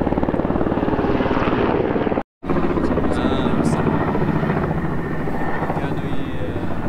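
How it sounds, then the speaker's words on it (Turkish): Russian helicopters pass overhead near the ruins of ancient Palmyra in the Syrian desert, a loud, steady rotor thrum filling the whole stretch apart from one brief cut in the middle. "Rus helikopterleri geçti."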